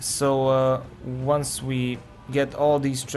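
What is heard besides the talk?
No everyday noise stands out behind the speech.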